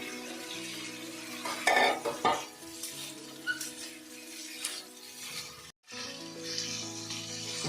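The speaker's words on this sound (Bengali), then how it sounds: "আলু আর ডুমুর আমি লো টু মিডিয়ামে আরো 2 মিনিট ঢাকা দিয়ে কষিয়ে নেব।" Fried potatoes and figs cook with spices in a pan, with a metal spoon scraping and clinking against the pan over a low sizzle; a brief silence comes near the end before the sizzling resumes.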